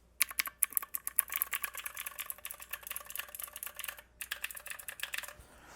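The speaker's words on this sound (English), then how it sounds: "These look like even blue switches, mechanical keyboard switches." Blue-switch mechanical keys on a retro pixel art speaker click rapidly in close, crisp irregular bursts, with a brief pause before a final flurry of taps.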